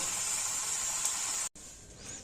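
Spinach dhoka fries in hot oil, a steady close hiss and sizzle that breaks off briefly and then resumes, with no talking.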